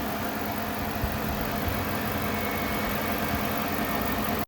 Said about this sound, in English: So far, it's idling great.